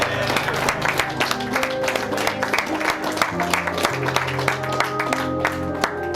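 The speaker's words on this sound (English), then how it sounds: "Let's get a round of applause for Rupert Booth." A livestream audience applauds after a speedrun of the video game Contradiction: Spot the Liar!, a steady patter of clapping of moderate loudness with faint voices underneath.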